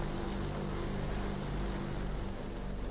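Steady, continuous drone of propeller aircraft engines from a Bristol Blenheim Mk.IV bomber in World of Warplanes, loud and unbroken with no pauses.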